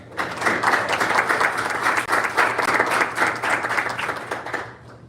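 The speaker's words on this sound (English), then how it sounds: "And let's clap one more time" Applause from the audience at a Coast Guard DCO class graduation ceremony, a full, continuous burst of many hands clapping for about five seconds before fading out.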